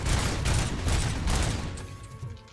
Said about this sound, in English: More shooting him in his cover.